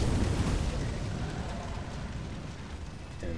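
Magma Shot spell in Elden Ring erupting in a dense, rumbling burst of fiery crackle and roar that fills the whole moment and slowly eases.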